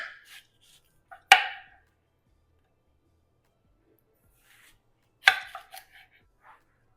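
A knife slicing a watermelon into small pieces on a board, two sharp crisp cuts landing several seconds apart, each followed by a brief juicy crackle and soft taps, close and clear against near silence.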